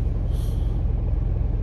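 Dense road traffic in Batasan, San Mateo rumbles low and steady, with a truck air brake hissing briefly near the start over the continuous engine noise.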